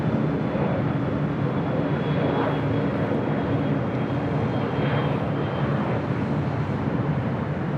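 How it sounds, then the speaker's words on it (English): Airbus A380 airliner on approach for landing at LAX, a steady broad engine roar holding throughout with wind noise, no voices. "It looks like Speedbird, the A380 Super, heading to the south side for an arrival on 7 right."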